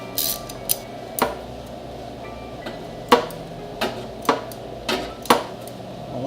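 A 10mm socket on an extension works bolts loose on a Honda S2000 engine, giving a series of sharp metallic clicks and taps spaced a second or so apart over a quiet background.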